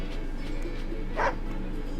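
Caesar the dog in the Wargroove strategy game gives one short bark about midway, standing out briefly over a steady bed of game music.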